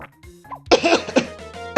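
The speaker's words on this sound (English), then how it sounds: "I'm going to have to cough in a second." A few harsh coughs burst out in quick succession, close and loud, with a bit of throat clearing.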